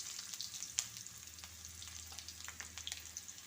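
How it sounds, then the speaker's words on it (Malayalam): Onion frying in hot oil for a dal curry tempering, with mustard seeds and chilli already in the pan: a steady, close sizzle with quick crackles and faint stirring, and no voices. "ഉള്ളി ഇട്ട് കൊടുക്കാം."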